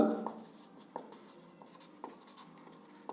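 Handwriting an area formula: soft pen or chalk strokes with a few distinct taps at intervals, faint and close, after a brief murmur at the start.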